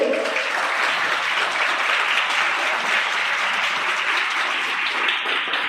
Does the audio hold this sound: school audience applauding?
yes